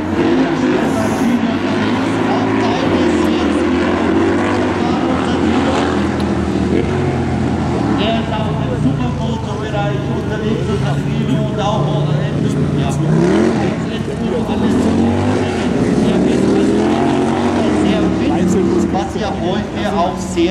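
BMW R18 bagger motorcycles race around the Ampfing circuit in Germany, a dense, loud engine roar rising and falling as bikes pass, with a commentator talking over the noise throughout.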